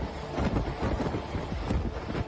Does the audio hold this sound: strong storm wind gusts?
yes